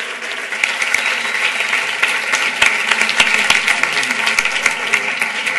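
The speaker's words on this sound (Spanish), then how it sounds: "Así que vamos a recibir con muy fuerte aplauso" Audience applause welcoming Risto Mejide and Juan Merodio to the stage at a talk event, a dense, steady crowd clapping that holds loud for several seconds with some voices mixed in.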